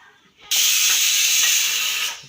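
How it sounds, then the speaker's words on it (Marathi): A pressure cooker lets out a single loud, steady hissing whistle of steam lasting over a second and a half, then cuts off. "कुकरची शिट्टी चालू आहे"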